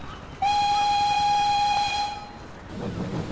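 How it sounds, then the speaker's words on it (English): A steam train whistle sounds one long steady blast of about a second and a half, loud and close, then cuts off, leaving the rumble of the railway behind it. "a whistle could be heard"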